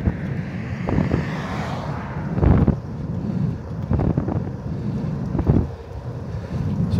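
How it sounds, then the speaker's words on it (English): Wind buffets the microphone during a bicycle ride on a road into a headwind, a loud continuous low rumble with gusty surges and occasional thumps. "I'm going into the wind a bit, so I can feel the push."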